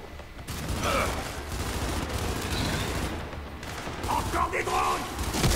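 Rapid bursts of gunfire in the video game Gears 5 on Xbox One X crackle continuously, mixed with background game noise and occasional higher mechanical tones, loud and close throughout.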